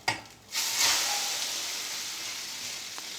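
Besan flour and egg omelette sizzling steadily in hot oil in a pan after being flipped, a sharp burst of frying at the turn settling into a continuous close crackle with no voices.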